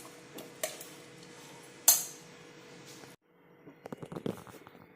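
An iron kadhai is set down on the stove before tempering for a traditional Dogra dish: one sharp metallic clank near the middle, with softer clinks and light kitchen clatter before and after.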